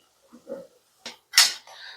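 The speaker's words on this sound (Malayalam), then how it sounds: "നമ്മൾ മീഡിയം ഫ്ലെയിമിനകത്തിട്ട് ഒന്ന് കറക്റ്റായിട്ടൊന്ന് എല്ലാ ഭാഗവും ഒന്ന് ബ്രൗൺ കളർ ആവുന്ന വരെ ഒന്ന് ഇളക്കി." Food is stirred in a pan over a medium flame until browned: a few scattered, fairly quiet clinks and scrapes of a utensil against the pan, separated by short silences.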